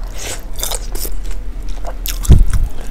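Spicy bakso aci meatballs filled with lava tetelan, eaten with Samyang noodles, are bitten and chewed close to the microphone, giving loud, wet, squishy chewing and smacking throughout and a heavier crunchy bite near the end.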